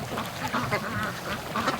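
Free-range duck quacking close by in a short burst of repeated nasal calls, fairly loud and steady throughout with no talking.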